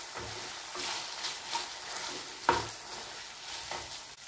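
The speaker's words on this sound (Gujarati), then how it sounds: "તો એકવાર આપણે શાકને હલાવી લઈશું." Okra (bhindi) frying in oil is stirred in a pan, with scraping strokes and a soft sizzle coming in intermittent bursts, plus one sharper clank near the middle, close by and moderately loud, with no talking.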